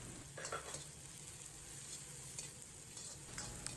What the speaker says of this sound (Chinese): 煸炒几下